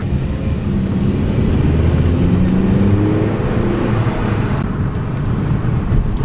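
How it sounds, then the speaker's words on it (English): A 2014 Chevy Cruze RS fitted with a cold air intake idles and takes light throttle, giving a loud, steady low engine drone with a broad intake hum, continuous and close, with no talking. "I'll give it a little bit of gas and you can probably hear it"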